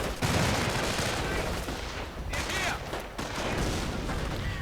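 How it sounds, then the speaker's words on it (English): Heavy .30 caliber machine gun fire and lobbed grenades in a real-time strategy battle, a dense, continuous clatter of gunfire with bursts and blasts throughout, loud and close under faint voice. "Heavy machine gun of Maisan actually opening up. 30 caliber."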